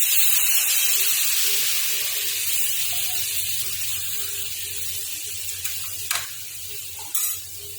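A glass of water hits hot spices (salt and red chilli) in a pan for raw mango chutney, giving a loud, continuous hiss and sizzle that slowly eases, with a couple of brief utensil knocks near the end.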